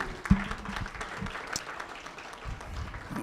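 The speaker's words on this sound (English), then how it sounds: "Please give him a round of applause like Dalton style." Applause breaks out for the mayor at a Coffee with the Mayor gathering, a crowd clapping steadily throughout, moderately loud and close, with a sharper clap near the beginning and scattered individual claps standing out.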